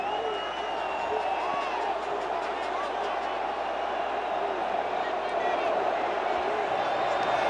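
Huge crowd of Vasco football fans singing together in the Arena da Amazônia stadium during a Carioca 2016 match against Flamengo, a dense distant chant of many voices filling the stands.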